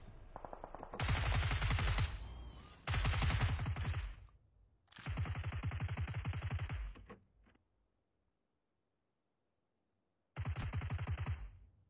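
A DP-28 light machine gun in the mobile shooter Peace Elite fires several loud, close bursts of rapid automatic shots, separated by short pauses and one longer silent gap.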